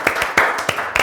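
An audience at a live rock-and-football quiz show claps to welcome the first round: a few sharp, close hand claps in quick, uneven succession over about a second.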